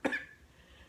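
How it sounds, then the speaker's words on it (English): A single sharp cough from a person with allergies, short and close, then quiet room tone. "So, if I cough a few times, I apologize."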